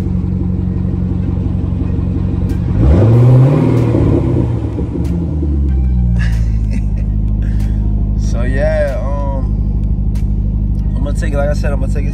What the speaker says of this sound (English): I'm starting it up. It's a little cold start.